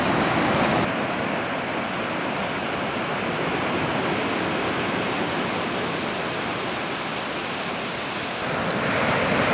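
Steady ocean surf rolls in at Seascape Beach near the resort, a continuous broadband wash of small, flat-day waves with some wind, loud and unbroken, with no voices present.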